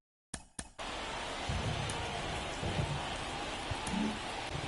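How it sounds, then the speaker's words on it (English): Steady rain from the baseball video game MLB The Show 24, a Cubs vs Red Sox game, as a broad, even hiss that starts abruptly after a couple of brief bursts and holds at constant level with faint low rumbles underneath. "It feels like we might be headed towards a rain delay if the weather doesn't ease up, Chris."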